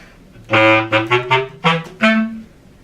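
A bass clarinet plays the short opening phrase of an etude, separated staccato and slightly held notes, clear and close, with no talking.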